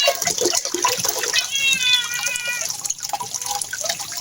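Tomatoes rinsed under a running tap while cooking sinigang na tilapia, a steady close splash and trickle of water with a few drips.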